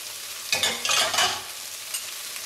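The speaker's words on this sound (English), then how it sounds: "So let's go ahead and put our garlic in." Garlic dropped into a hot pot of sausage and vegetables for Louisiana red beans, bursting into loud close sizzling that gradually settles into softer frying with a few stirring noises.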